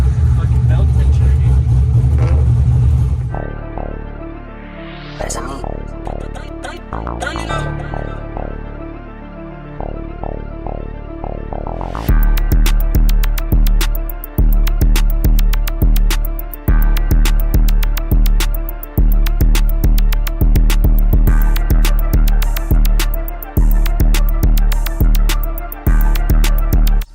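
A nitrous-fed Corvette Z06 makes loud engine noise throughout, with a shifting pitch in the first half and a dense run of sharp, rapid rattling bangs from about twelve seconds onward.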